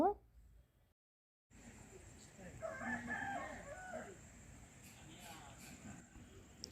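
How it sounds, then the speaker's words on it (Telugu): A rooster crows at a distance in a small village in Araku Valley, faint but clear, over quiet outdoor ambience after a brief silence. "కోడికి ఇప్పుడే తెల్లారినట్టుంది"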